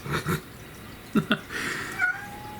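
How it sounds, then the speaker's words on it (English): An indoor pet cat meows several times close by, short chirpy calls followed by a longer drawn-out meow near the end, with no talk over it. "Come here, my sweet cat."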